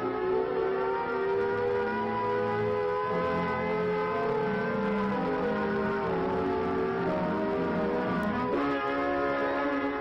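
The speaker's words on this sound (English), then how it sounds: "the alert will be a warbling siren blast lasting 3 minutes" A warbling civil defense air-raid siren sounds continuously and loudly for the whole stretch, its wavering tone rising and falling in a steady alert pattern with no voices over it.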